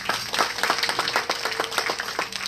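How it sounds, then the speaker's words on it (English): An audience at a spiritual talk gives a round of applause, a dense patter of many hands clapping steadily for a few seconds, with no voices over it. "Let's give her a round of applause"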